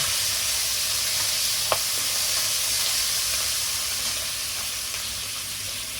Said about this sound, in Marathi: आता हे आपण सगळं छान परतून घेऊया